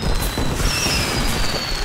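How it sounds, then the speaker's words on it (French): Fireworks bursting in the night scene of the video game Concrete Genie in VR mode, a dense steady crackle and booming rumble with faint whistling streaks, continuous throughout. "C'est des feux d'artifice."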